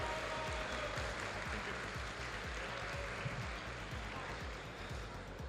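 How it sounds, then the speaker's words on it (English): Steady applause from a crowd at a Pokémon championship event fills the space, a dense wash of clapping that holds at an even level throughout. "another round of applause for Pietro, our champion today."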